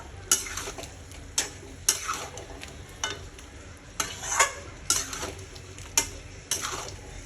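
Chicken curry with mint is stir-fried in oil in a pan: a spoon scrapes in regular, close, clattering strokes about once a second over a continuous sizzle, with no voices.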